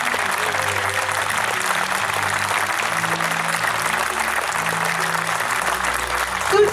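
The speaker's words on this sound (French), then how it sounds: "Oui, il peut y avoir un tonnerre d'applaudissements." An audience applauds steadily for the Venetian mask association in a garden setting. The full, continuous clapping holds at a strong level, with a faint low tonal backdrop underneath.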